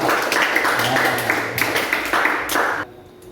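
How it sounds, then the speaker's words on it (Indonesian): A classroom of students applauds a presenting group, a dense continuous patter of clapping lasting about three seconds before cutting off abruptly, with a faint low voice underneath. "tepuk tangan dulu buat kelompok 1"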